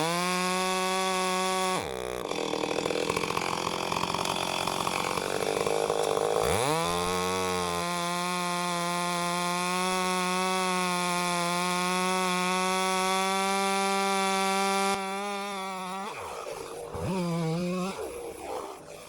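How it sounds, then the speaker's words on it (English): A small chainsaw cuts into a tree, its engine whining at a high steady pitch, revving up and bogging down as it bites into the wood, loud and close throughout. "Wish I had a bigger chainsaw."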